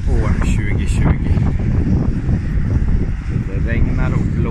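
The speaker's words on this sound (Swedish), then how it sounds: "Det regnar och blåser över Köping." Wind gusting and rushing over the open air around Köping on a rainy day, a steady broadband roar throughout, with a voice talking over it.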